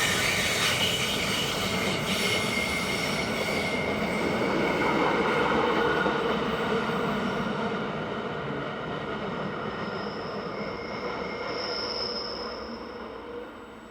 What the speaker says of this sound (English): This train is powered in the centre by locomotive number 648.